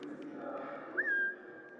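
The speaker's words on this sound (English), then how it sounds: "when he goes over there, you can whistle" In the Assassin's Creed Mirage video game, a character gives a single short rising whistle to lure a guard, heard once mid-clip over a low steady game ambience.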